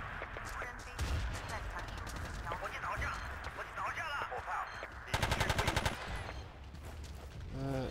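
AK rifle fire in a squad-based shooter game comes as fast automatic bursts. A dense, rapid rattle near the end stands out above the ongoing battle noise, and someone talks throughout.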